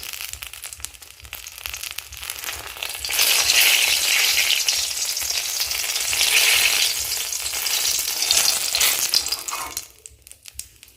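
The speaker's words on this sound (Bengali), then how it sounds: "আর হচ্ছে এই তেলের মধ্যেই আমি পটলটা দিয়ে ভালো করে সুন্দর করে ভেজে নেব।" Pointed gourd (potol) frying in hot oil, a loud, dense sizzle that swells after a quieter start and stays strong before dropping away near the end, with no one talking.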